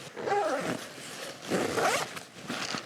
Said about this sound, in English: U-shaped zipper for easy access